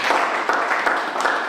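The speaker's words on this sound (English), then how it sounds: "Clap for them, please." An audience applauds speakers at an inspiration group event, a dense, steady burst of many hands clapping together, loud and close for a brief stretch.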